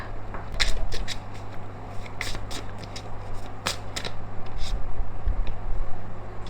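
A double-sided tarot deck is shuffled up close, giving brisk, uneven bursts of riffling and card slaps over a low steady hum.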